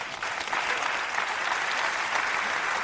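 Audience applause at a talk, dense continuous clapping from a large crowd, steady and fairly loud throughout.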